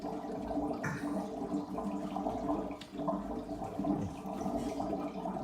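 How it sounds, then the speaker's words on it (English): An Aquatop aquarium filter refills with water nearby, giving a continuous gurgling, bubbling wash with a few louder splashy surges, no speech. "I let it just fill up naturally on its own until it stops bubbling in the tank."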